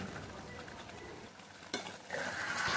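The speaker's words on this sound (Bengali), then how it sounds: "এখন কিন্তু সুন্দরভাবে কষাতে হবে অনেকক্ষণ ধরে, যতক্ষণ না রঙটা চেঞ্জ হয়ে যাচ্ছে" Meat and potatoes are stirred in a hot pan, giving a steady sizzle and frying hiss with scraping from the spoon that briefly grows louder near the end, close and alone without talk.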